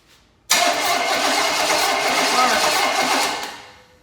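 A Chevy small block engine cranks on a test run with a steady, loud, close whirring churn lasting about three seconds before it fades, without catching.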